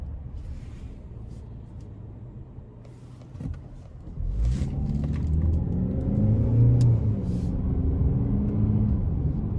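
Steady low road rumble and engine hum inside a moving 2022 Hyundai Santa Fe SEL 2.5L, swelling as it picks up speed, with occasional small clicks.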